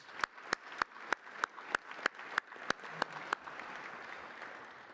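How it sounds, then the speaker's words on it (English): Eleven evenly spaced sharp claps in steady rhythm, then fading into a soft, scattered patter of applause from a small audience. "Could we have another round of applause for those amazing individuals?"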